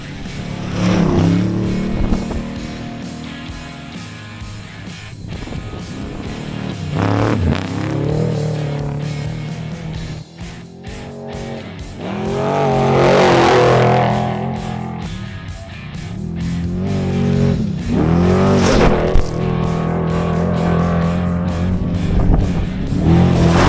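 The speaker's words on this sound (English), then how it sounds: "Car's coming." Off-road race cars tear past at the Mint 400 desert race, engines roaring and revving loudly as they sweep by one after another in rising and falling surges, with a continuous rumble between passes.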